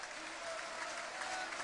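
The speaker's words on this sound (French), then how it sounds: "le président Jean-Michel Aulas, il peut être applaudi, le bâtisseur de cette OL," A crowd applauds Lyon club president Jean-Michel Aulas at a Ligue 1 match against Le Mans, a steady wash of clapping that fills the stadium and continues evenly throughout.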